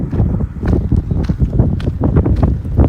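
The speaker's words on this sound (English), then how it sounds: "Holy windy today." Strong outdoor wind buffets the microphone in loud, irregular rumbling gusts that rise and fall without pause.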